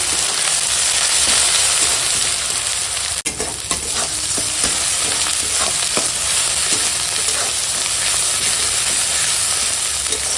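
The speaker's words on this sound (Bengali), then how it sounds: "এখন মশলাখানা কষিয়ে নিই" A spice paste of chili powder, turmeric and salt being fried and stirred in a pan: a loud, continuous, close sizzle with steamy hiss and the scraping of a stirring spoon, without speech.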